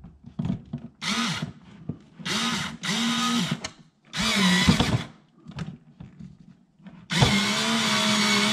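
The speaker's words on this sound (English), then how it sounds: "And then I can do all the rest of the drilling." A power drill runs in several bursts of whirring while drilling holes for a cooler livewell, stopping and starting, ending with one long steady run; close and fairly loud.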